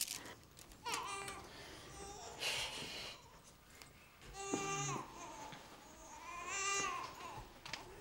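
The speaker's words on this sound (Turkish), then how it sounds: "Çocuk ağlıyor, duymuyor mu bunlar?" A baby cries and fusses in a home, with bursts of wailing that rise and fall across the clip, fairly close and clear, broken by short pauses.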